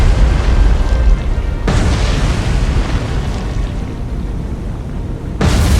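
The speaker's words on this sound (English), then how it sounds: "That looked like a magazine explosion to me." A ship's magazine detonates in a naval warfare game, heard as heavy, sustained rumbling booms with two sharp onsets several seconds apart, loud and close.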